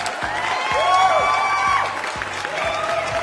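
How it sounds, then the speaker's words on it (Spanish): Studio audience applause and cheering at a variety show, clapping and whoops rising over a thumping rhythmic music beat, with brief swells and a dip before picking up again. "Así que recibámoslo con un fuerte aplauso."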